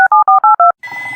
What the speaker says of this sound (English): Mummy Pig rings up Susie Sheep's mummy.